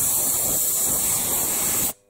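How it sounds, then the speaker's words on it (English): Compressed air from a shop air line blasts into a lathe's half nuts to blow out chips, a loud steady close hiss lasting about two seconds before cutting off abruptly. "you can connect it to your air line and put it down inside the half nuts"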